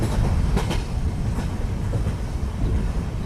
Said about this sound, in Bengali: কিছুক্ষণের মধ্যে ট্রেন স্টেশনে এসে থামল।